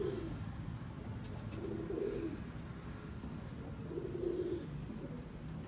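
Pigeons coo repeatedly, several soft throaty calls rising over a steady background rush, close and moderately loud.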